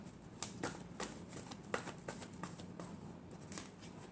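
Tarot cards being shuffled by hand: a run of crisp, riffling card flicks and taps, close and fairly quiet, with no voice.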